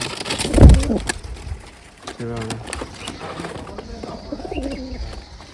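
A pet pigeon coos in a short rolling burst at moderate distance, and the coos are joined by rustling and other household sounds; nobody speaks.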